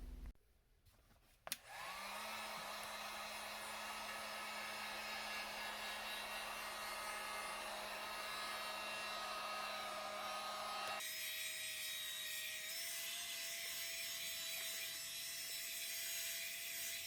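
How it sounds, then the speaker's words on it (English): A heat gun warms and shapes boot cover material, starting with a click and then blowing in a steady loud hiss and whine, its pitch shifting partway through as the setting changes. "I'm going to proceed with my heat gun to heat this up and curve it"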